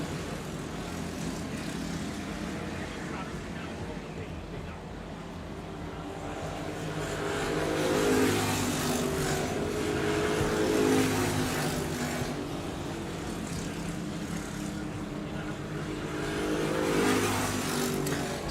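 Racing karts at a Clay Pigeon Kart Club championship final lap around the track, their engines buzzing and revving at a middle distance, swelling and fading in waves as the pack passes through the hairpins.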